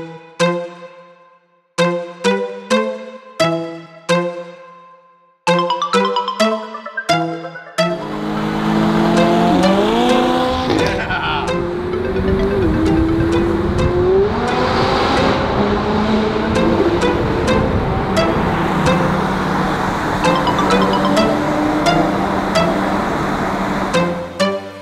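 A series of short, plucked musical notes gives way to a supercar's exhaust droning and revving loudly, holding a steady, rumbling roar for many seconds.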